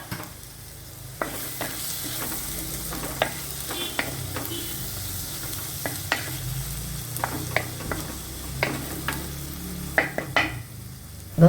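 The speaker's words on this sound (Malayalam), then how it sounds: "ഇനി ഇതിലേക്ക് നമുക്ക് ഒരു വലിയ തക്കാളി അരിഞ്ഞു വെച്ചത് ഇട്ട് കൊടുത്ത് ഇനി നന്നായിട്ടൊന്ന് വഴറ്റി" Chopped tomato sautéed with onions in a pan for potato curry: a continuous low sizzle with repeated sharp scraping taps of a spoon against the pan, near and without speech.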